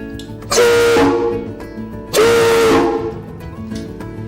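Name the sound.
steam whistle blowing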